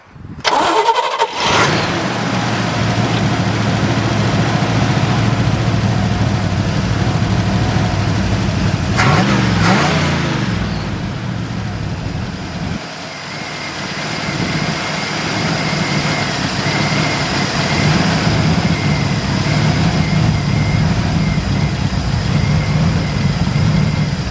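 A 1973 Chevrolet Camaro engine cranks and fires, then settles into a steady, loud idle close by, with a brief blip and a dip partway through as it keeps running evenly.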